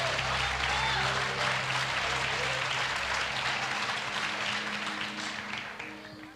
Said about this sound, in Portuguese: Aleluia, se for para Jesus, aplauda